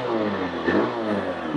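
Second-hand motorcycle engine at a used bike dealer revving steadily nearby, a continuous mid-pitched drone with a slight rise midway, alone with no talk.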